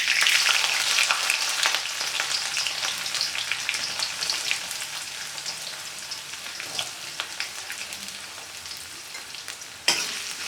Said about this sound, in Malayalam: വെളുത്തുള്ളി, പച്ചമുളകും കൂടെ ചേർത്ത് കൊടുക്കാം.